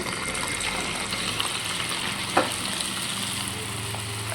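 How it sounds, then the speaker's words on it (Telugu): Cabbage pakoda pieces fry in hot oil, giving a steady, even sizzle throughout with one brief louder crackle partway through, heard alone with no talking. "మనము పకోడి చిన్నగా వేసేసుకున్నాం"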